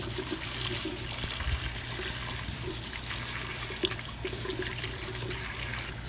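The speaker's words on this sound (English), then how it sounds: "Just give it a scrub." A dirty lemon is scrubbed under running water, with a continuous splashing stream and faint rubbing and handling noises close by.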